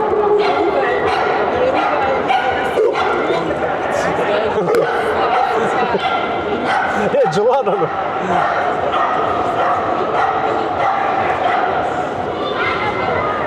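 Several unmuzzled dogs, among them an American pit bull terrier, bark and yip in short bursts while someone talks almost continuously over them.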